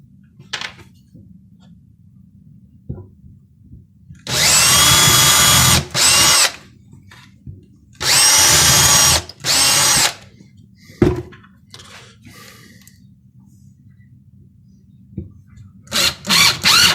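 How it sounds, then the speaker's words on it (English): A power drill drives screws into the wood of a homemade Halloween tombstone in several loud, sustained whirring bursts, with short pauses and clicks between them. "and then I will screw the screws in"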